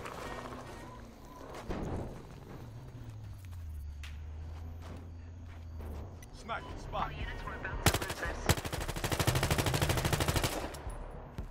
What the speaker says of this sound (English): You can even hear a guy up there using the trailer with a suppressed rifle, taking some shots at some guys